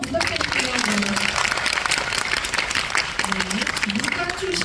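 Audience at a guest-visit screening of the film The Moon giving a round of applause, a steady close patter of clapping with voices speaking over it.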